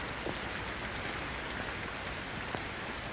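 Steady rain falls outside at night in a 1940s film noir scene, a continuous even hiss with a few faint drips, with no voices over it.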